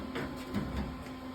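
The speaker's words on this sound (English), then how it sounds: "So start welding." MIG welding on a car's sheet metal, filling old trim holes near the wheel lip: a steady, close, crackling buzz with no pauses, alone and without talk.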